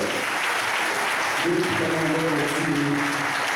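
An audience at an apostolic church dedication applauds with steady, dense clapping throughout, moderately loud, while a voice speaks through a loudspeaker over it.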